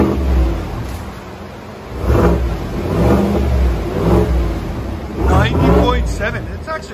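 A car engine fitted with a Borla muffler exhaust revs in several surges, rising and falling loudly up close, with people talking over and between the revs.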